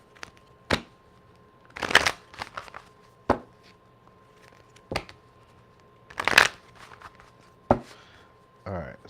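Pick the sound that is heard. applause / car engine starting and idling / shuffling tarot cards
shuffling tarot cards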